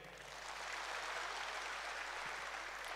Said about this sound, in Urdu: اس پہ تالیاں ہونی چاہیے۔